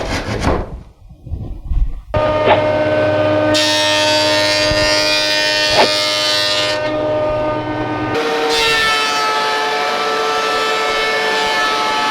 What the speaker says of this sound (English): One side of the cutting board template was traced onto the cutting board stock and cut close to the line at the bandsaw.